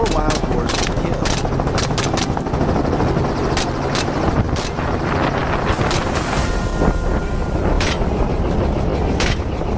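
A helicopter flies over a field during a wild boar hunt, making a loud, steady broadband roar mixed with gusty wind buffeting throughout.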